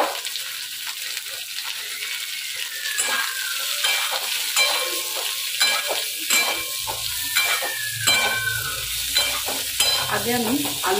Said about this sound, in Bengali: আগে আমি আলুগুলোকে ভেজে নেবো